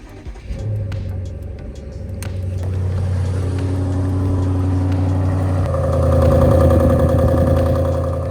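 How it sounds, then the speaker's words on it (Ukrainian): A BMW M850i's N63 V8 engine cranks and fires up, settling into a deep, rumbling idle that swells with a couple of throttle blips toward the end. "давайте ми її заведемо і послухаємо, як взагалі працює двигун"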